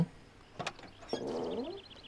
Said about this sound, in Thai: อุ้ย เสียงเปิดประตู